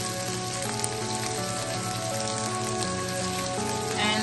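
Meatballs frying in a pan, a loud, dense, continuous sizzle heard up close and without talking, a little brighter at the very end.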